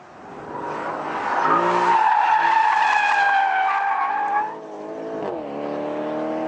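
A 2013 Porsche Panamera launching from a standstill in Sport Plus mode, with a loud, sustained tire squeal rising and wavering for about three seconds before easing into the engine pulling away.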